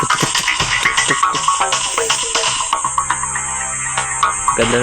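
Ending music from the Granny video game plays alone, a busy tune with quick rhythmic notes and a bright, high melody, loud and close.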